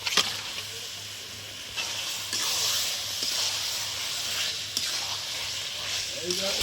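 Water poured into sizzling chicken masala in a covered pan gives a loud, steady steam hiss that holds for several seconds with small bursts and crackles along the way.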